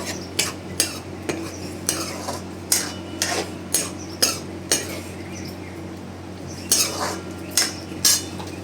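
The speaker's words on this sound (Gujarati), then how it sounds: "પછી જલ્દી જલ્દી હલાવી નાખવાનું, નકર ફાટી જાય, કોદા થઈ જાય" A spoon scrapes and clinks against a pan as okra curry with buttermilk is stirred quickly, giving a dozen or so sharp metallic knocks over a faint sizzle.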